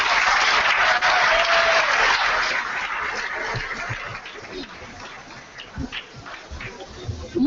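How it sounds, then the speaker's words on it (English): An event audience gives a round of applause after a performance, loud dense clapping that gradually thins out and fades into scattered claps, murmurs and light laughter. "could we have a thunderous round of applause for them?"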